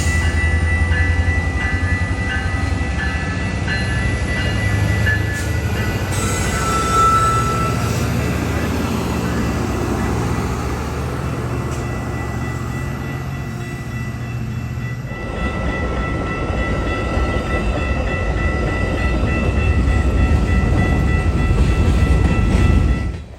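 A moving CPKC freight train passes close by at an intermodal terminal, giving a loud, continuous rumble with steady wheel and car rattle and some high metallic squeal throughout.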